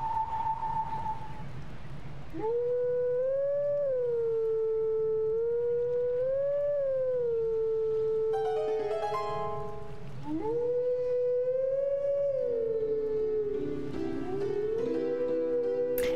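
A wolf in the video game Twilight Princess howls the royal family song as a slow, wavering melody of long sustained notes with a short pause midway, loud and alone.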